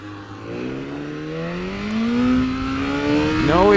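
A BMW S1000RR motorcycle engine warming up on race-day morning at Mission Raceway, loud and close, its steady idle rising into a smooth climbing rev with strong harmonic whine, ending in a sharper blip.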